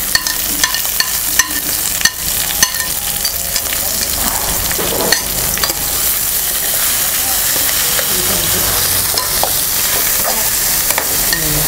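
Chopped onion, green chili and curry leaves frying in a toddy-shop kitchen in Kottayam, giving a loud, steady broadband sizzle with scraping stirs and clatter throughout, close up and with no talk.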